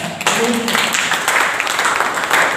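An audience claps at the opening of a workshop: after a brief sound at the start, a dense burst of applause carries on loudly and evenly to the end.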